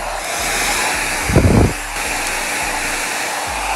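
Winston foldable hair dryer with a soft-touch grip runs steadily at close range, a constant broad whooshing airflow throughout with a brief louder surge near the middle.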